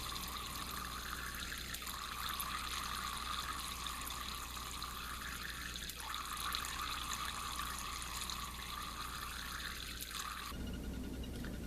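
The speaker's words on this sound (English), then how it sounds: "the stream of water falling into the bucket spreads itself apart, changing the tone that it makes when it hits the water" A continuous stream of water from a Kelvin water dropper pours into a bucket with a steady splashing hiss whose pitch shifts now and then, close and unbroken for about ten seconds before cutting out.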